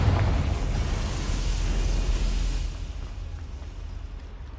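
A fiery Confringo spell from Hogwarts Legacy bursts with a loud low boom and roaring rumble that decays over several seconds, leaving a fainter crackling tail.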